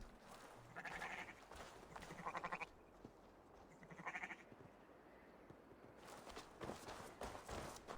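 Sheep bleating in the video game Assassin's Creed Valhalla, several wavering bleats in two or three bursts over faint ambient noise and footsteps, fairly quiet.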